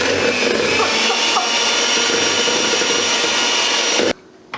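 Chocolate chip cookie dough is churned by a mixer, giving a steady loud whirring drone with a grinding, scraping texture for about four seconds before it suddenly cuts off to quiet.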